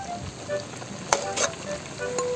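Pork leg (pata) sizzles and fries in a pan while being stirred, with steady crackling and a few sharper scraping stir sounds near the middle and end, close and moderately loud, with no talking.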